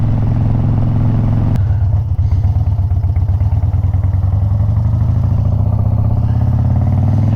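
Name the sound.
motorcycle exhaust popping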